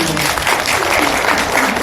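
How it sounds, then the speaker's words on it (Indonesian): An audience at a talk show applauds in a short, steady burst of clapping, with voices mixed in beneath it. "Oke, tepuk tangan."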